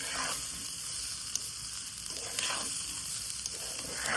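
Rice for plain pulao fries in a pot with a soft, even sizzle, stirred at a slow rhythm with gentle scraping sweeps every second or so.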